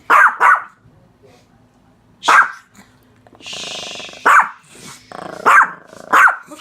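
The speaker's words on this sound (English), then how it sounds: "Look at this dog disobey me." A dog barks repeatedly from indoors at a window, sharp close barks in short bursts with pauses, some doubled, alongside a brief whining or rustling stretch in between.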